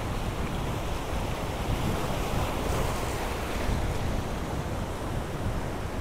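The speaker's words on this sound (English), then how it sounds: "We've got a bit of a lull in these waves." Ocean surf at Willunga Pier in South Australia during a lull between sets, a steady broadband wash of water with wind noise on the microphone, continuous and moderately loud with no talking.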